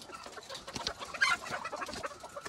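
Chickens in a poultry shed cluck in short, scattered bursts, several birds close by calling over one another with no speech.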